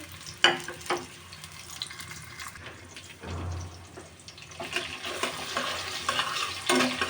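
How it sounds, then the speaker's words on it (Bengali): Sliced onion and garlic go into hot oil and fry with a soft, fairly quiet sizzle, punctuated by a few clinks and stirring scrapes against the pan. "তেলটা গরম হয়ে গেছে এবার আমি পেঁয়াজ রসুন দিয়ে দিলাম"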